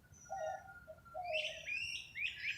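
Birds chirp outdoors in a short run of clear calls, lower whistled notes first and then brighter, overlapping high tweets, fairly close against a quiet background.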